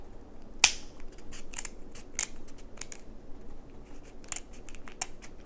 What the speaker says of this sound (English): these scissors work so much better